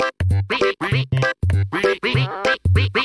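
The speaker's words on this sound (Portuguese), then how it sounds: "Nosso amigo Pato parece estar se divertindo" The cartoon duck Pato from Pocoyo quacks loudly and close up in a rapid string of about eight separate bursts, clear and alone with no talk.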